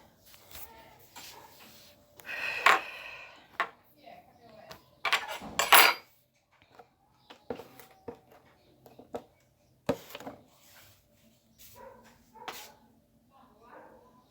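Pots, pans and food containers clatter and clink as they are stacked into the lower part of a small refrigerator during cleaning, in scattered bursts with quiet gaps, while someone speaks intermittently and a dog whimpers faintly.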